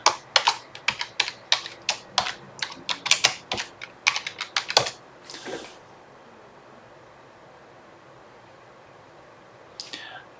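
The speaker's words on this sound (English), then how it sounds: "Now I typed the password correctly," Password being typed on a computer keyboard for a Rocky Linux 8.5 virtual machine: a quick run of crisp, close key clicks for about five seconds, one softer rustle, a long quiet gap, then a final brief burst of keystrokes.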